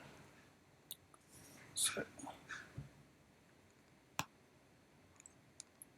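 A computer mouse clicks sharply a few times, close and quiet, between soft rustles and short pauses.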